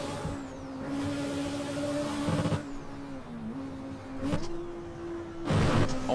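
A Honda Civic EG6 engine hums steadily from inside the cabin, its pitch rising and dropping with gear changes, with occasional clunks and road noise.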